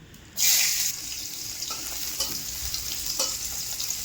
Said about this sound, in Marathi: आता मिरची टाकायची तेलामध्ये.